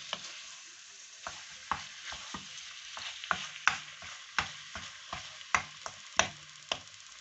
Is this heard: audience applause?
no